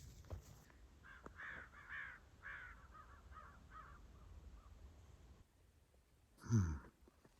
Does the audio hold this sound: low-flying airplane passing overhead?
no